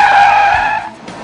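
A Subaru Impreza 2.5 WRX STi skids through a handbrake turn on a small banked circuit corner, with a loud, close tire squeal that holds and then fades out within a second.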